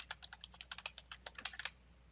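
Fingers type on a computer keyboard in a quick, uneven run of soft clicking keystrokes, close and fairly quiet, with no talking.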